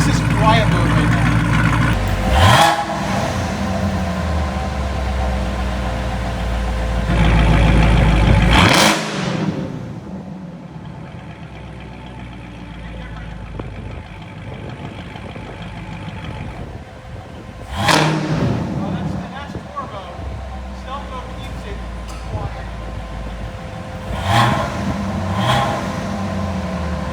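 Camaro engine fitted with a Corsa dual mode exhaust in quiet mode, a steady low idle hum with a few short revving swells and whooshes, under nearby talk.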